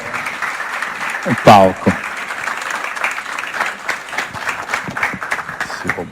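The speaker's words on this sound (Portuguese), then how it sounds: "vamos receber os 3 palestrantes da noite com um aplauso particularmente caloroso" An evening lecture audience gives a round of applause for three speakers at an event on contemporary work, the clapping mixed with someone speaking over it into a microphone.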